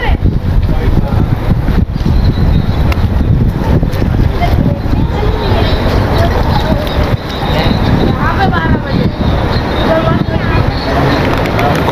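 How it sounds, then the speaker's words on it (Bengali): A light cool breeze rushes steadily across the microphone outdoors by a hotel pool on a sunny day in Dubai, making a constant broadband roar with a few faint background sounds. "সানি ওয়েদার, ক্লিয়ার হাওয়া দিচ্ছে, হালকা ঠান্ডা হাওয়াও দিচ্ছে"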